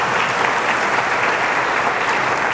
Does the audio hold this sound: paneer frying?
no